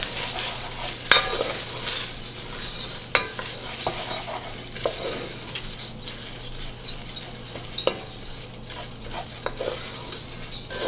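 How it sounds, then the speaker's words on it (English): Short-grain arborio rice toasts in a hot pan for risotto, giving a soft steady sizzle broken by repeated scraping and clinking strokes of a spoon against the pan, with no one talking. "Just toasting the rice a little bit."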